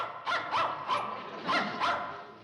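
A dog barks five times in quick, uneven succession, close and clear, with no talking over it.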